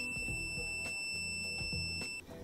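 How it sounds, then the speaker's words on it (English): A steady, high electronic multimeter continuity beep, testing stepper motor wires, rings continuously for about two seconds, then cuts off, over low background clatter. "If they're part of the same wire, you'll hear the beep sound."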